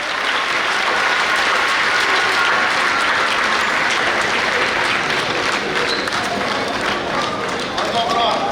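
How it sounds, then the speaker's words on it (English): Sustained applause from a large audience at a symposium and book launch marking 150 years of the Sagrenti War, loud and steady throughout with dense clapping and crowd noise. "A sounding round of applause to celebrate."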